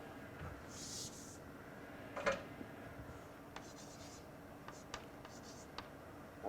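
Faint scratching and tapping of writing on a board during a lecture, with a few soft strokes spread across a quiet room and light background noise.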